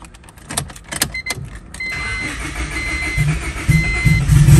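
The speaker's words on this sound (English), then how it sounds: "Cold start." A Lexus IS300 with a turbocharged 2JZ engine cold starts: a few clicks and cranking bursts, then the engine catches and settles into a loud, rising idle that grows rougher and heavier up close.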